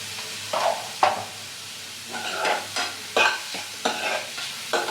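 Salted carrots fry for carrot rice, with bursts of scraping and tossing from a spatula stirring in an uneven rhythm over a low sizzle, close and fairly loud.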